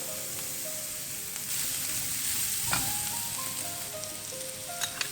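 Finely chopped garlic and ginger fry in oil in a pan, a steady loud sizzle throughout with a few brief clinks and stirring sounds, no voice.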